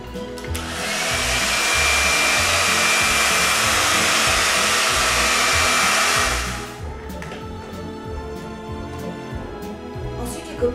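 A hair dryer roars loudly and steadily for several seconds, then switches off, leaving a quieter background.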